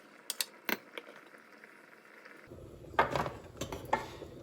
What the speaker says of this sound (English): Now I'm just going to remove the meat out and put it in a tray.